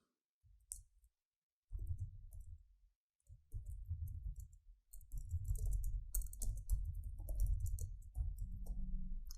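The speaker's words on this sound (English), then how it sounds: "So let's type the text first." Close, fairly quiet keystrokes on a computer keyboard come in short bursts of clicking with brief pauses, building to faster continuous typing.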